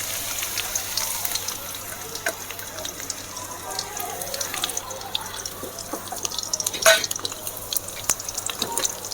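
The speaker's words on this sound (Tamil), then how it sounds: "சட்டி சூடாகிடுச்சு. இப்போ நம்ம கொஞ்சமாக எண்ணெய் ஊற்றிக்கலாம். இதில் இந்த பூண்டை போட்டுடலாம்." Garlic frying in a little hot oil in a heated pan, a continuous fine crackling sizzle with scattered sharp pops, close and moderately loud.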